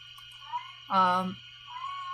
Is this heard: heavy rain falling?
no